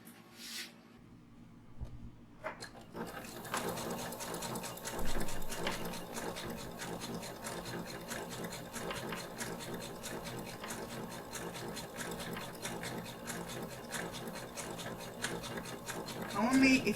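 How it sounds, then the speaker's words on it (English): A sewing machine top stitching four card slots for a shoulder bag, running in a steady rapid mechanical chatter after a quieter start, with occasional speech beneath it. "Now we're going to top stitch our 4 card slots."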